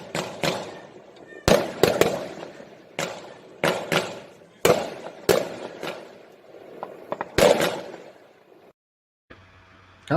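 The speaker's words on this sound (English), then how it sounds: "How about some fireworks?" Fireworks sound effect: a string of loud, sharp bangs and crackling bursts at irregular intervals, then a short silence and a faint tonal tail.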